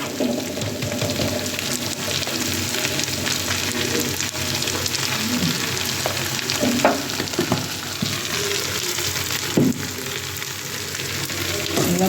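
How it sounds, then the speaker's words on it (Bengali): Lentils frying in oil with onion, garlic, green chili and bay leaf give a steady, close sizzle with stirring scrapes and occasional clinks throughout, with no talking. "পেঁয়াজ, রসুন, কাঁচামরিচ, তেজপাতা তেলের মতো ডালটা ভাজবো"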